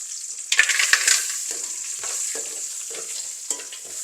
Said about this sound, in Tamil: இந்த நெய்க்கில் கஜுவை முதல் போடுறேன்.